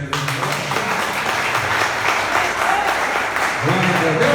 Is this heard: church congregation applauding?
yes